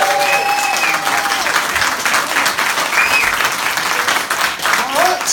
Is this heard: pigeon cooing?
no